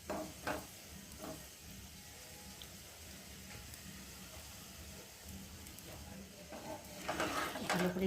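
Aloo paratha frying in oil in a pan, a steady low sizzle throughout that swells a little louder toward the end, with faint crackles.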